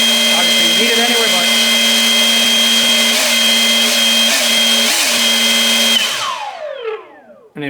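An EGO 880 CFM cordless leaf blower runs steadily on its lowest setting with a loud, constant whirring hum and a high tonal whine for about six seconds, then spins down and fades away toward the end.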